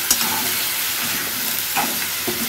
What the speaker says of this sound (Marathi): खेकडे मस्त तेलामध्ये असे व्यवस्थित फ्राय झाले पाहिजे.